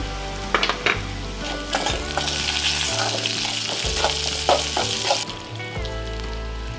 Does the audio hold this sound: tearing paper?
no